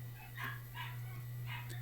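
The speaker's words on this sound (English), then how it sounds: "there's dogs going nuts downstairs." Dogs bark in bursts from somewhere downstairs, distant and muffled, three or four yelps spread over a steady low mains hum.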